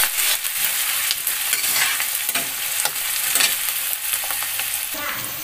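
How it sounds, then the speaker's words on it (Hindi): Chopped onion frying with curry leaves in a kadhai for poha, a steady close sizzle with spatula stirring and scraping throughout, no voices. "फिर इसमें डाल देना है प्याज, कटी हुई प्याज। और देखिए इसको डालने के बाद इसको अच्छे से भूनना है।"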